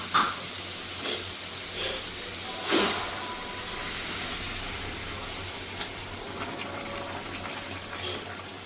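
Hot water poured into a pan of spice paste that has been fried for a fish and cauliflower curry, giving a steady loud hiss and sizzle with a few sharper bursts, no voices.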